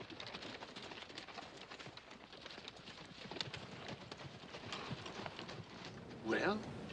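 Horses' hooves clop steadily over rough Western country ground in a 1958 cowboy film scene, a continuous mid-level clatter that persists throughout, with a brief louder burst near the end.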